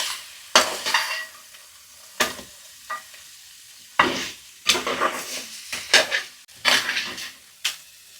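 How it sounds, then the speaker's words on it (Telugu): Crab curry with chili powder stirred in a pan on the stove, the spoon scraping through the pieces in repeated bursts under a soft oily sizzle, close and fairly loud with short pauses between strokes. "కారం ముక్కలు బాగా పట్టేలాగా కలుపుతున్నా."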